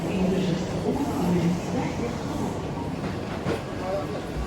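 An airport shuttle train at Dubai airport rumbles steadily with a continuous low rolling drone, while people talk over it throughout.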